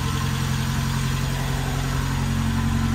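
A Saab 900, freshly converted to a manual gearbox, idles steadily up close, its engine holding a constant mid-pitched hum with a faint rhythmic pulse throughout.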